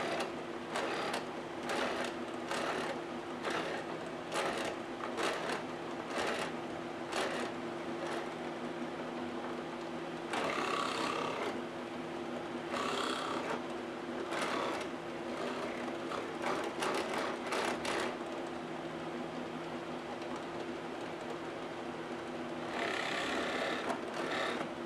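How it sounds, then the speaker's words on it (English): A drill with a Forstner bit bores into wood while a pen press is being made, a steady motor whine with rhythmic grinding bursts as the bit cuts, repeated in several passes with brief louder surges. "You'll have more control that way doing the Forstner bit drilling first."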